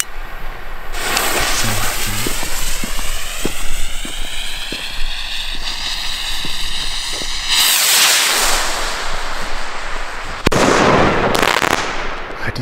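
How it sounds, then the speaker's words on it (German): Red China 40-gram fireworks rockets launching with whistling, screeching ascents, then a run of sharp crackles and loud bursts that ring out over open air, with a few heavy pops near the end. "40 Gramm Raketen"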